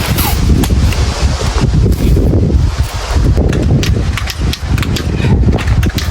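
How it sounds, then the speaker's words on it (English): Strong outdoor wind buffeting the microphone, a loud rumbling roar that gusts unevenly throughout, with scattered sharp knocks and taps. "Boy, is it always windy here."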